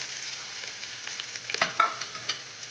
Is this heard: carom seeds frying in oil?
yes